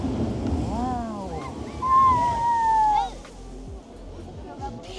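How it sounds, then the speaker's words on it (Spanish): Strong coastal wind and rushing surf roaring steadily on a seaside road in Mexico, with a broad noisy wash throughout, a few passing whistling tones, and excited voices talking over it. "corre como muchísimo viento en esa parte porque el agua se abre paso"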